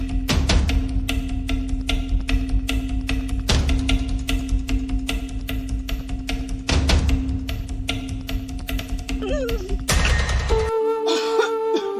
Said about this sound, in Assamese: আপুনি কিয় এনেকুৱা কাহিছে